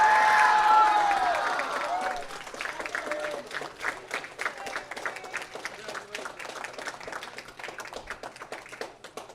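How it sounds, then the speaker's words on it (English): Crowd applause and cheering at an esports league championship final for a winning middle school team, starting loud with shouts and settling into sustained scattered clapping. "Everyone, please give a big round of applause and congratulations to Kawananako Middle"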